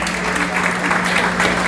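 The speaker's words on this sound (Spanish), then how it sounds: "Muy bien, un aplauso." A room of educators at an education innovation conference claps together, dense steady applause filling the short moment, fairly loud and close.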